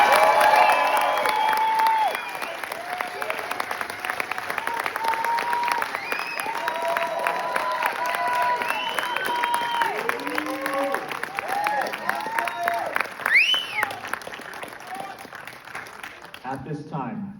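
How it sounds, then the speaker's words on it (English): Sustained applause and cheering from a graduation crowd honoring the Army's newest drill sergeant at a basic training ceremony, dense clapping with scattered whoops and voices throughout, fading out near the end. "please join me in a round of applause for the Army's newest drill sergeant."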